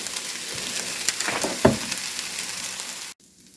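Peppers and onions sizzle steadily in a hot pan, with a few scraping stirs rising over the frying before the sound cuts off abruptly.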